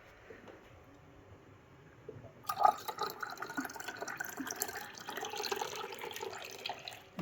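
Water poured into the cooling system of a Vauxhall Nova GTE fitted with a C20LET 2.0 16V turbo engine, starting as a faint trickle and then a steady, close liquid gurgle and splash that runs continuously to the end.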